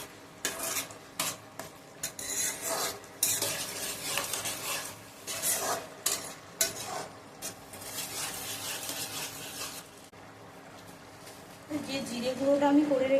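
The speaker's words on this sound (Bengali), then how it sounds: "এটাকে আমি ভালো করে নাড়াচাড়া করে দেবো" Chana dal with ghee being stirred in a pan for a Bengali-style dish, a steady scraping and clinking of spoon against metal that comes in bursts, with a faint sizzle near the end.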